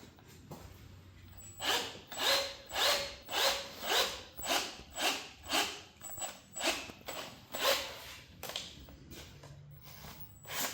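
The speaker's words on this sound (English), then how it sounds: "I'll put the drill on it and just run it on through there" Rhythmic grinding bursts of a drill driving a tap, about a dozen regular pulses, close and fairly loud, with no talking.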